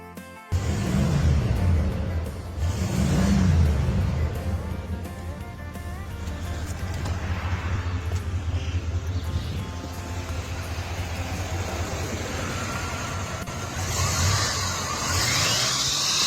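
A classic car's engine idles and revs in a steady, continuous drone over the full length, with a couple of louder swells near the start and a slight lift toward the end, with no talk over it.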